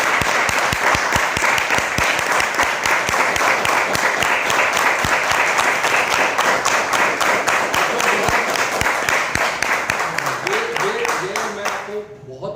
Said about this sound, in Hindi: इसके लिए आपके लिए जोरदार तालियां।